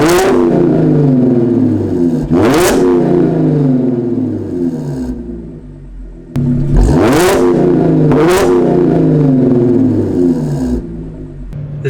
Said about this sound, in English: Let's do some revs here.